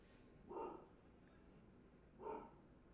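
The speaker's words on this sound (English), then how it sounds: "Sorry if you can hear the dog in the background barking." A dog barks twice in the background, faint and well spaced, behind a quiet indoor room during a men's college gymnastics broadcast.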